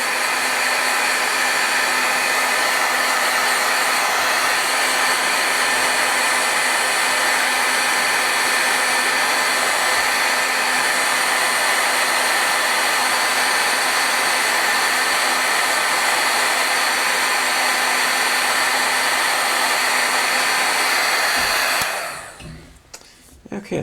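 A hair dryer blows on the back of a sheet of matte paper, a loud, steady, close whooshing hum that runs without a break and then shuts off near the end.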